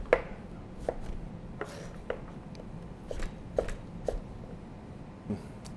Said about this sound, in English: Just going to cut them into discs